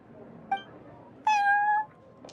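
A cat meows in the Cat's Tail venue in Genshin Impact: a short chirp and then a longer, clear drawn-out meow, heard close up over a quiet background hum.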